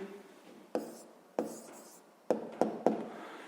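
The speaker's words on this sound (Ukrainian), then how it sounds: "Ну що ж, записуємо відповідь." Pen marks on paper as a math answer is written out: a handful of short scratchy strokes and taps, close and fairly quiet, with no talking.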